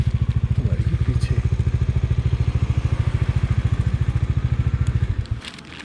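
A motorcycle engine labors in a rapid, even chugging pulse while stuck on frozen ice on a solo Ladakh ride up Khardung La. It runs loud and close for about five seconds, then drops off to a quieter idle.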